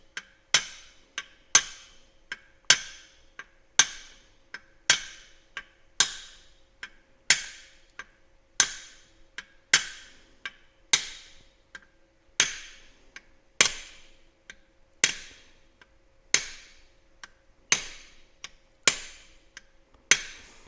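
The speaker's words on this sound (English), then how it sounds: "Just tapping on the outside. This is a brass punch." A brass punch tapping lightly on the outside of a bearing during an NP205 transfer case rebuild on a 1980 Chevy truck: about twenty crisp, evenly spaced metallic taps, close and clear with short ringing decays, no talking.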